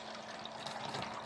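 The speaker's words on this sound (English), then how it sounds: "Just pouring me some tea." Tea pours into a cup in a short, continuous liquid stream that lasts about a second, close and fairly soft, with no talking.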